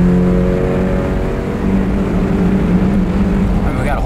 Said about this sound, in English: the intake noise is just as loud as the exhaust sound